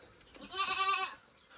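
A goat bleats once near a raised hut on a rural homestead in Amarpur, where chickens and pigs are also kept, a clear wavering call of about half a second over quiet background.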